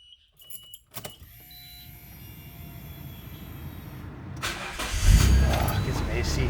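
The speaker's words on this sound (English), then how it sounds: "Let's go ahead and start the car." A Nissan R32 GTR engine starts after a starter whir, catching with a louder surge and then settling into a steady idle, heard from inside the car.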